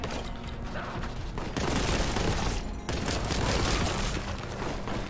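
Sustained rapid gunfire from a bolt gun in a video game, loud dense bursts with explosive booms layered throughout, continuous with a brief drop near the middle.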